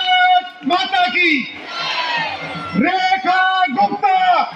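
Rally crowd at a Delhi election campaign event answering a leader's call with loud, rhythmic chanted slogans, call-and-response shouts alternating with a roaring crowd swell.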